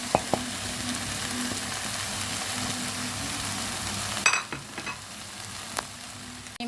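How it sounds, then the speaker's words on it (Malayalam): Vegetables sauté with masala powder in a pan, a steady broadband sizzle running throughout, broken near the end by a few scraping stirs and clinks of a spoon against the pan. "ഈ മസാലപ്പൊടികൾ ഇട്ട് കൊടുത്തതിന് ശേഷം കുറച്ച് സമയം നന്നായിട്ടൊന്ന് ഇളക്കണേ"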